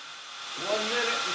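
A knife blade being ground in sped-up footage gives a steady, continuous hiss and whir that swells in loudness partway through.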